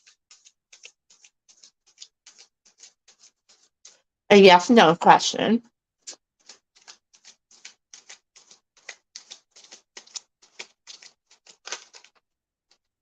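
A brief burst of talking, surrounded by soft, irregular ticking clicks of tarot cards being handled and shuffled, quiet and close.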